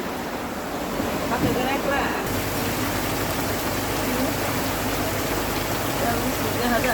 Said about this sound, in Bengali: বাইরে প্রচন্ড বৃষ্টি উঠেছে